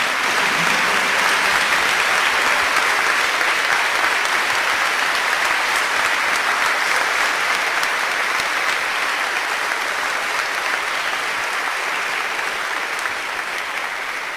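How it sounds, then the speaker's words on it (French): A parish congregation stands and applauds in tribute, loud sustained clapping from a large crowd that fills the room evenly and keeps going without a break. "je voudrais que nous nous mettions tous debout, que nous applaudissions"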